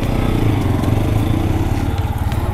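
A motorcycle engine idles and rumbles steadily close by, a continuous loud low throb with outdoor clatter mixed in, as riders are about to set off from a university campus.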